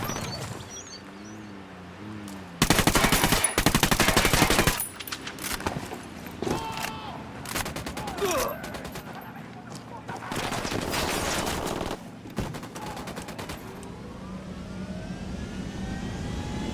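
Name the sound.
gunfire from video game Ghost Recon Wildlands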